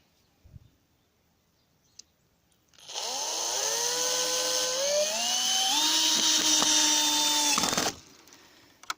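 A power drill drives in a screw, a loud whining run of about five seconds with pitch climbing in steps as it bites in, stopping abruptly, after faint knocks beforehand.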